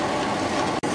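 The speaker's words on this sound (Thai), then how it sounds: "คือต้องตะไบออกให้พอดีกับตัวปั๊มครับ" A hand file rasping against a steel pump piston, one continuous dense scraping stroke up close, with a brief break near the end.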